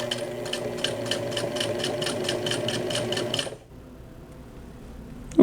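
A sewing machine top-stitches a seam on a pair of shorts, running in a fast, even rhythmic chatter of stitches for several seconds before stopping abruptly, leaving a quiet room with a faint knock at the end.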